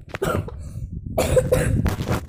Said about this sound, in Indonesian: gue batuk-batuk ya.